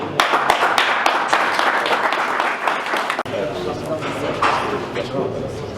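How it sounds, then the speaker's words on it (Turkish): Applause for a mayor at a sports club visit to the Eyyübiye municipality, a dense burst of clapping from a small group indoors, steady and fairly loud, with speech mixed in. "Bütün, bütün arkadaşlar başkana bu desteğinden dolayı bir alkış"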